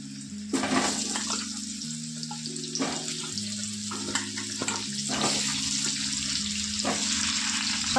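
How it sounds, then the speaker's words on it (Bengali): Potatoes frying in spiced oil in a pan, a steady broadband sizzle throughout with occasional stirring scrapes and clatters, close and fairly loud, over a low background hum. "সব আলুগুলো দিয়ে আলুগুলোকে এবার আমি একটু লাল লাল করে ভেজে নেব।"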